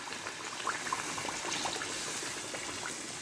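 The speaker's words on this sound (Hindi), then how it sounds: "हम 3 कप इसमें पानी के डालेंगे।" Water pours steadily into a pot of rice, a constant hissing splash at a low, even level.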